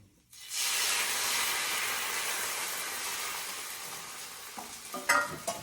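Rice batter for satpaki ghavane hits a hot tawa and sizzles: a sudden onset of loud, steady frying hiss that holds evenly, then softens with a few clicks and scrapes near the end, no talking.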